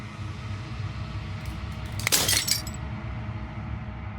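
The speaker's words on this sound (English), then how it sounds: "As the final fragment of glass shatters" Glass shatters in the video game Slay the Princess: a sharp, bright crash of breaking fragments bursts out midway and trails off over a steady low ambient hum, with no talking.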